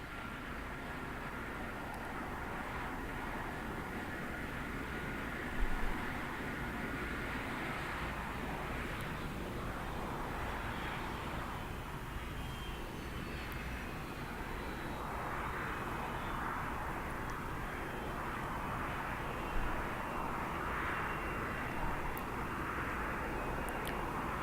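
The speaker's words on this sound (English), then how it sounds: "the arrival of the Shuttle Carrier Aircraft here to the Shuttle Landing Facility" A NASA Shuttle Carrier Aircraft arrives at the Shuttle Landing Facility at Kennedy Space Center, its jet engines producing a steady, broad roar throughout, with a rising whine on top and a few faint thumps, with no voices.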